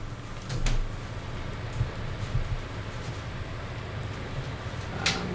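Steady rain in Farming Simulator 19 hisses continuously, with occasional louder patters and soft thumps, no voices present.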